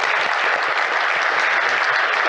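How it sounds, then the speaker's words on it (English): Steady applause from a conference keynote audience, continuous and dense clapping from a full room with no voices standing out. "Let's give Mark another round of applause."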